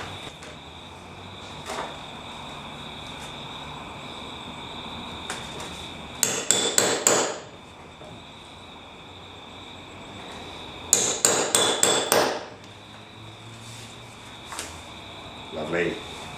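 Hammer striking a punch to make holes in sheet metal body parts of a Ford ZF Fairlane under restoration, two quick bursts of four or five sharp ringing metallic blows separated by quiet workshop hum and insect chirps.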